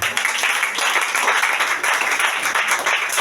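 A church congregation applauding for Jesus, dense steady clapping and cheering from many people filling the hall throughout, loud and continuous.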